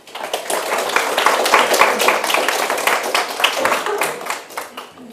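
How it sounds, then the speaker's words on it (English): Audience applause at a Women's Day 2024 event, a few seconds of brisk, crisp clapping from a moderate crowd that swells and then tapers off. "So let's give them a round of applause"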